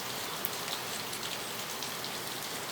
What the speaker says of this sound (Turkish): Yani o kadar çok yağmur yağıyor ki şuradan anlayın.